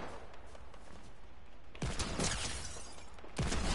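Sniper rifle shots in Fortnite, a couple of sharp cracks with rattling mechanical noise after them, heard over steady game ambience and fairly loud against the quiet background.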